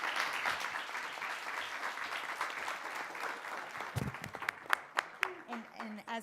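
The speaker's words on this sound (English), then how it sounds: "applause for our audience as well" A crowd claps in a sustained wash of applause at a conference stage session in Miami, with a few louder individual claps standing out as it tapers off.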